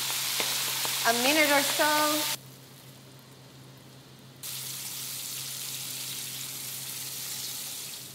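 Capers, parsley and potato straws frying in hot oil for fritto misto: a voice talks over a brief sizzle, a short near-silent pause follows, then a steady, even crackling sizzle continues.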